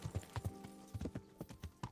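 Horse hooves clip-clopping in the medieval role-playing game Kingdom Come: Deliverance, a steady walking rhythm of sharp, close knocks, about a dozen hoofbeats in two seconds, with no other sound in front of them.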